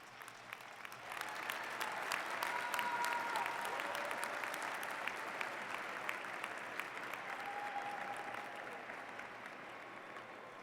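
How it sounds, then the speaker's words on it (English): A graduate commencement audience breaks into sustained applause, a dense, even roar of many hands that swells after a second and holds steady for the rest of the stretch, heard from within the hall with faint voices mixed in. "Give them a round of applause"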